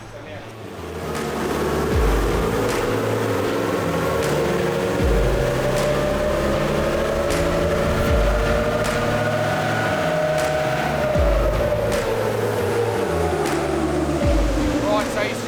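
An FJ49's engine is run up on a dyno during tuning at about 16 pounds of boost; a droning engine note climbs steadily, holds high, then falls away under a continuous mechanical roar.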